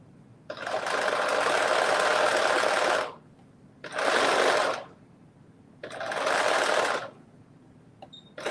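Three separate runs of a sewing machine stitching fabric near its edge, each a few seconds of close, even motor buzz with quiet pauses between them.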